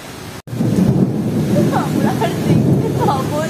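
Torrential rain with rolling thunder, a heavy downpour roaring steadily close by, with a brief dropout near the start and faint voices underneath.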